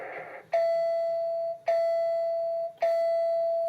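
A NERF Tech Target electronic dartboard gives three clear, evenly spaced electronic beeps, each a sustained tone that sounds at about one-second intervals and fades slowly.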